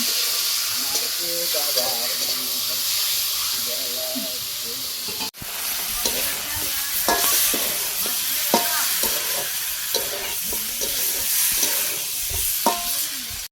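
Meat being stirred and fried in a pan, a continuous loud sizzle and hiss with intermittent scraping stirs and a brief clatter, up close, with a voice faintly present in the background.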